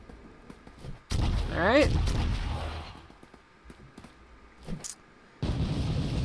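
Gunfire from the video game Project Spark: a couple of loud, blunt synthetic shots with a brief descending tonal sweep, separated by quieter game sound, with a short spoken word in between.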